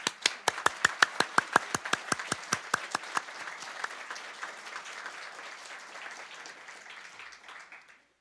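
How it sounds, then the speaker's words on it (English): Audience applause at a graduation celebration, a few loud, distinct claps up front swelling into a dense, steady wash of clapping that gradually fades out over several seconds. "How about another round of applause?"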